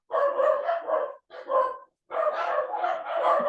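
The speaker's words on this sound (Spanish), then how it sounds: "Perdón, que mi perrito está peleando." Small dog barking while fighting, a rapid run of close, loud yapping barks, a short pause, another burst, then a long continuous volley of sharp barks.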